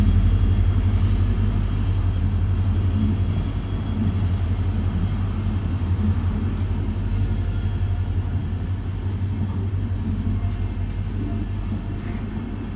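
An Izzatnagar-based WDP4D diesel locomotive, number 40140, hauling the Bandra–Ramnagar superfast express, heard as a loud continuous rumble of wheels and carriages rolling past, steady and close throughout with a faint high whine.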